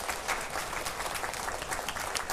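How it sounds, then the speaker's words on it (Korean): A church congregation applauds in a brief, faint burst of dense, even clapping that continues throughout without pause. "박수로 환영해 주시기 바랍니다"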